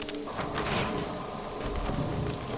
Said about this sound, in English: let's open up this security door and dispatch with the ghoulified denizens within